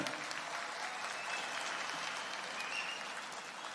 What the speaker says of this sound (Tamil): எல்லாரும் ஓங்கி நல்ல கைத்தட்டலாமே